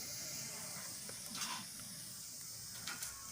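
Cumin and a pinch of asafoetida are dropped into hot oil for tempering, producing a faint, steady hiss and sizzle with a few slightly brighter crackles, quiet and close.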